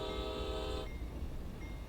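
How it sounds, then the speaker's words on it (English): An MBTA commuter train passes with a sustained horn blast over a steady rumble of rolling wheels, the horn cutting off partway while the broad rail noise continues. "And there's the MBTA train."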